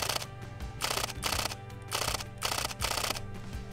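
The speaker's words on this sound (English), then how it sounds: "The shutter sound is amazing. The buttery smooth shutter of it, I love it." Fujifilm X-H2 mirrorless camera's mechanical shutter firing in quick repeated bursts, a crisp rhythmic clatter of clicks that stops and starts several times at close range, with a faint tonal background underneath.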